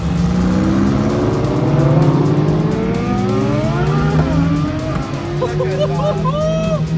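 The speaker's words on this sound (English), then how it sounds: "It's like a shoal of hypercars." A group of hypercars drive past at speed, their engines rising and falling in pitch in loud, overlapping sweeps with revving and a faint tire squeal, while an excited voice talks over the passing cars.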